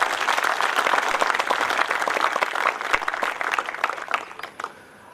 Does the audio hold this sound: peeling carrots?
no